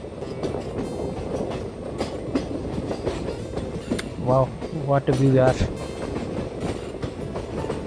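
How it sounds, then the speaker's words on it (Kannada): A passenger train rolls over a bridge at night in mist on the Vijayapura to Kukke route, its steady close rumble carrying rhythmic clickety-clack of wheels on rail joints while someone briefly speaks over it. "ಈ ಹೋಗ್ತಿರೋ ರೈಲು"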